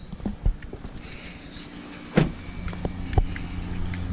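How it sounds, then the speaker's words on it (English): Hood release and latch clunks on a 2018 Mazda CX-5 as the bonnet is opened, a few brief mechanical thumps and clicks close by, the loudest two about a second apart, over low outdoor rumble. "I have to try and open the hood."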